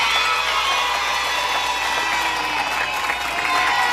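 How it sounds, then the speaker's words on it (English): A game show studio audience cheers and applauds a contestant in a steady, dense wash of clapping and crowd noise that holds at an even level throughout. "Round of applause for Gloria Hamilton."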